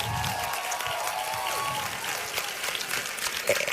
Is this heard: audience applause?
yes